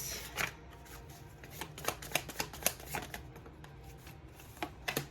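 A deck of tarot cards is shuffled close up, with quiet papery riffles and sharp snapping flicks in an uneven rhythm over about five seconds. There is no talking.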